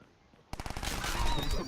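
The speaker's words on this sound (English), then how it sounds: "The SMG produces a lot of bullets." SMG gunfire in a video game erupts suddenly as a rapid, continuous burst of shots after a brief quiet moment.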